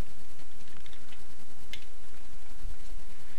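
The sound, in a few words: typing on a computer keyboard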